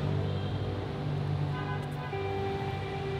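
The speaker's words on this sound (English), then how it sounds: "You can hear all the cars in the background and the sound of cars braking," Busy Hanoi street traffic with cars rumbling past and engines droning steadily, a few tonal horn-like notes rising over the continuous roadway noise, heard at a moderate distance.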